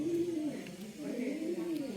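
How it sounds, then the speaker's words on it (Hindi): Pigeons coo inside Jamwant cave in Gujarat, a low, rolling, repeated call that sounds close and carries steadily over a faint echoing background. "ये देखिए कबूतर,"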